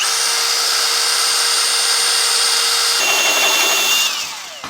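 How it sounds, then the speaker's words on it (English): Power drill boring step-up holes through the steel frame of a 2018 Chevrolet Silverado for a front-mount hitch: a loud, close, continuous high whine that shifts pitch partway through, then winds down at the end. "Now we're going to use a variety of bits to step up to eventually a 17/32 hole where we just marked out for our hitch."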